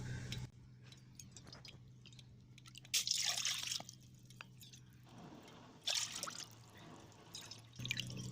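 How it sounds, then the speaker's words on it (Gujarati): Three short splashy bursts of water poured into a pot for rice-flour khichu, separated by quiet pauses with a low hum underneath. "તો અહીંયા ત્રણ વાટકી આપણે પાણી ઉમેરશું"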